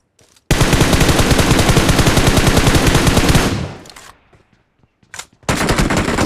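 Automatic gunfire in the mobile shooter BGMI (PUBG Mobile): a loud, close, rapid burst lasting about three seconds, then a brief lull with a short shot before another loud burst starts.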